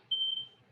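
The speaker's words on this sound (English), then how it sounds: "Oh, that's my timer." Kitchen timer going off during a roasting cooking demonstration, a single short high electronic beep, clear and alone.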